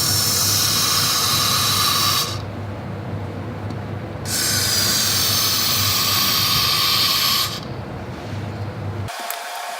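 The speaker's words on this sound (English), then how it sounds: "I'm going to put a whole bunch of penetrating oil down in there" Penetrating oil sprayed from an aerosol can into the cylinders of a Honda Goldwing engine: loud, close hissing bursts, two long sprays of about two and three seconds separated by a pause, then the sound cuts off.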